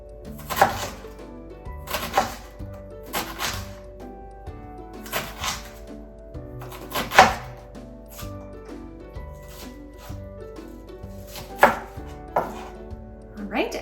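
A knife chops food on a cutting board with crisp, irregular strikes, roughly one every second or so, with a few louder chops standing out. The cutting sits close and clear with no talking over it.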